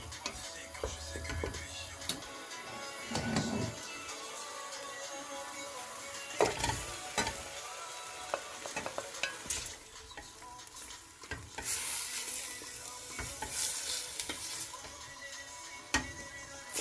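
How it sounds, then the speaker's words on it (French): Onions, bell pepper and leek cook in lightly heated oil for a peanut sauce, giving a steady low sizzle with scattered stirring clicks and utensil taps at close range, no talk. "L'huile a un petit peu chauffé, des oignons, du poivron et du poireau. On laisse mijoter 1 ou 2 minutes."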